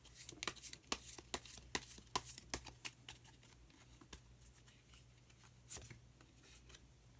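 Tarot cards being shuffled and drawn during a Korean card reading, a quiet run of soft crisp flicks and snaps in irregular bursts over a faint steady hum, with no talk.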